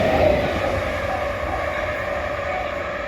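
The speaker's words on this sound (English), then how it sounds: "an old 1938 stock tube train" An old 1938 stock tube train passing on the line toward Amersham, heard outdoors as a steady loud rumble and rail roar that swells at the start and then holds, with no talking.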